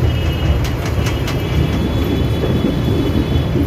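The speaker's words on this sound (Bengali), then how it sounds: "ট্রেন ঠিক এখন রাইট টাইমে ছেড়ে দিয়েছে, 7:05। আমরা শালিমার স্টেশন থেকে বেরোচ্ছি" A passenger express train pulling out of Shalimar station, heard from inside a first-class AC coach as a continuous loud rumble and rolling hum with faint high clicks, no voices.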